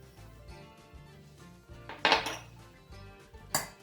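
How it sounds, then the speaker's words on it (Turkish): Pots and utensils clatter softly, then two sharper metallic clanks ring out as water and sugar go into a pot for syrup. "Tencereye suyumu ve şekerimi koyuyorum."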